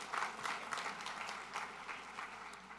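A round of audience applause at a Jewish Community Relations Council evening event for the MC, steady dense clapping from many hands at moderate distance, lasting a few seconds.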